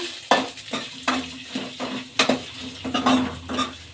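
Cumin, fenugreek seeds and two byadgi chillies roasting in oil in a pan, with a steady light sizzle broken by regular scraping strokes of a spoon against the metal, close and alone.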